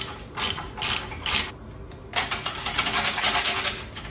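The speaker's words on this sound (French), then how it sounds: "un box 13 mm pour standard pour enlever, pour dévisser la clip" A 13 mm socket ratchet loosening a clamp on a BMW R1200 RS driveshaft, giving close, loud bursts of rapid metallic clicking, three short runs and then a longer continuous stretch.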